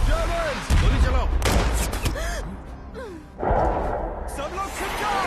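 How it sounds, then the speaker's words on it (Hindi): Gunfire in an action movie scene, with loud bursts and sharp shots cracking repeatedly under shouted orders and other voices, dense and close throughout. "गोली चलाओ।"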